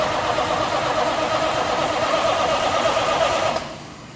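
A Peterbilt 352 cabover truck engine, first start attempt in over 20 years, cranks on the starter with a loud, steady grinding churn that holds for several seconds and then cuts off abruptly.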